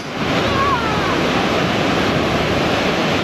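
Ocean surf at Praia do Tombo beach in Guarujá, a loud steady wash of breaking waves with wind noise on the microphone, close and continuous throughout.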